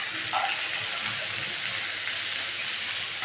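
Taro paste fries with garlic in a pan, a continuous close sizzle of hot oil with faint stirring crackles throughout and no talk.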